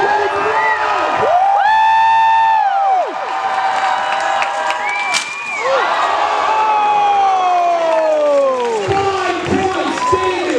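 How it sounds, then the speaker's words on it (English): A crowd at a Renaissance festival joust cheers and whoops with scattered applause as the knights charge. An announcer's amplified voice carries over the din throughout. "And the crowd goes wild."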